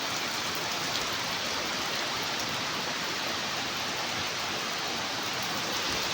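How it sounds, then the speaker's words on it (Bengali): Heavy rain pours down steadily and close by, a dense, even hiss of falling water that holds without a break from start to finish, with no voices heard. "কারণ বৃষ্টি হচ্ছে"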